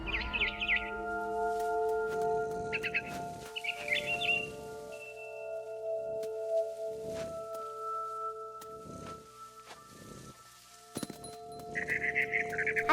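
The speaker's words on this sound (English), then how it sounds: "Then I heard chirping outside my window. It was a barn swallow going back to her nest." In the video game What Remains of Edith Finch, a barn swallow chirps in bright, brief bursts near a nest, heard alone over quiet ambient game music with pauses between calls.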